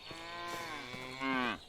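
Cattle mooing in the video game Medieval Dynasty, one long drawn-out low moo that rises and swells near the end, close and clear with no talk.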